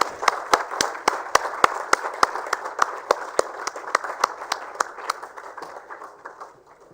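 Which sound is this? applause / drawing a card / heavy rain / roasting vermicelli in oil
applause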